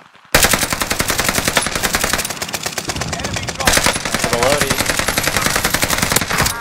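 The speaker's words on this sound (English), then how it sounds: "Shots." Rapid automatic gunfire rattles through a battle-royale video game match on the Caldera map, loud, dense and sustained with overlapping bursts and a few distant shots, while players talk underneath.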